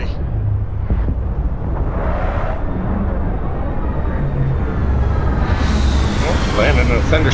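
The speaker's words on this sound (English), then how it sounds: "Alright, we're landing." Spaceship landing in the Starfield video game during a thunderstorm in mountainous terrain: a steady, loud engine rumble and roar that swells toward the end, with a rising whine as the ship sets down.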